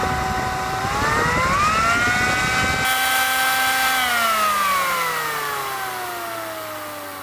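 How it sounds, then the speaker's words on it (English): An unloaded Kenwood Chef A701/A mixer motor whines up to speed and then winds down, a rising then falling tonal hum with a rough buzzing edge early on that drops away as it slows. "there's no load or pulleys or anything on this motor, so it's going to run strangely at slow"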